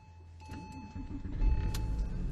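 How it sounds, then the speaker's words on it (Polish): A 2002 Porsche 911 Carrera 996.2 is started from inside the cabin: a faint electrical hum and clicks give way to the low rumble of the engine catching and settling into a steady idle. "może odpalimy sobie po prostu ten samochód"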